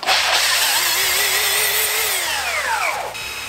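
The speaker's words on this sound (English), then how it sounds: "we got to sand it down to a nice fit" Close, loud whine of a power tool sanding wooden boards to fit a construction-themed bed frame, holding a steady drone with its pitch wavering and then dropping as the tool winds down near the end.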